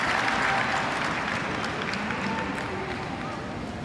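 A crowd applauds steadily through a Paralympic boccia mixed pair quarter-final at the South Paris Arena, a dense, even wash of clapping that stays loud for about four seconds and eases only slightly at the end.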